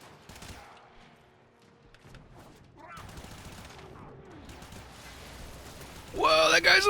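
Rapid turret gunfire bursts loudly near the end in the video game Warframe, after quieter game sounds with a person talking over them.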